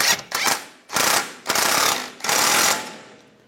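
Bursts of rapid ratcheting as a wrench tightens a ball joint nut, four close clicking runs with short pauses between.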